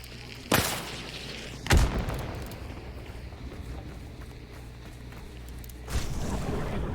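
Gunfire in the video game Hunt: Showdown: three heavy shots, two sharp reports close together early and another after a pause, each trailing into a rumbling echo, with no talk over them.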